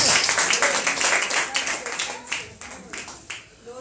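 A church congregation claps together during a Spanish-language service, a lively burst of many hands with regular beats that fades toward the end, mixed with voices.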